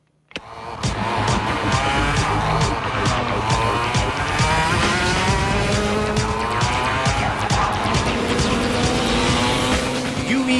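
Race cars lapping a go-kart circuit at Kartright Speedway in Singapore, engines droning loud and steady with rising and falling pitch as they pass, tires squealing in spots, continuous for the whole stretch.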